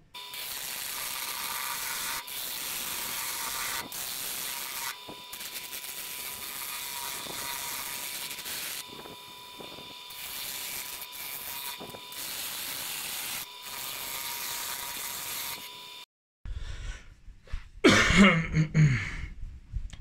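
A Parkside PDB 100 A1 wood lathe spins while a dulling chisel scrapes and rubs against the turning wood, loud rough grinding in bursts with brief pauses, ending in a short quieter stretch with a few knocks.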